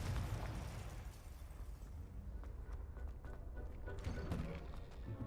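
A Confringo spell blast in the video game Hogwarts Legacy, a loud booming burst of low rumble that rolls on across several seconds with scattered crackling pops.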